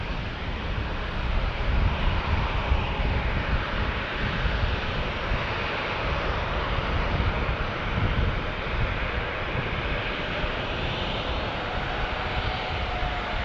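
Jet airliner on final approach into San Diego airport, a steady, loud broadband engine roar with wind buffeting that holds continuously throughout.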